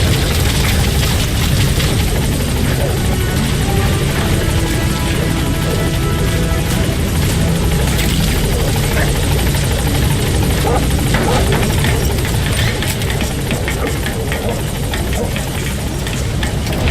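A Pequod helicopter sets down at a landing zone in Metal Gear Solid V: The Phantom Pain. Its rotor thrum and engine roar stay loud and steady for the whole stretch, with a faint radio-style voice mixed in.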